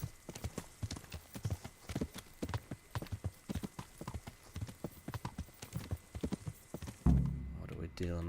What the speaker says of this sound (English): There's a horse down there.